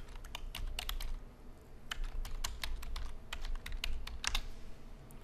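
Typing on a computer keyboard: quick bursts of crisp, close key clicks in uneven clusters over a low background hum, with no talking.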